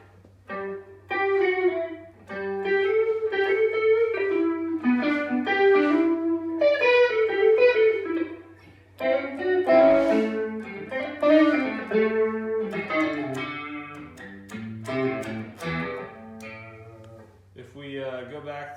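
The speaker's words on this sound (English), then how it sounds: "Can set it more for kind of Leslie type tones." A guitar plays a melodic line through a flanger pedal set for Leslie-type tones, a swirling, rotating-speaker style modulation, notes wavering and shimmering in a continuous phrase.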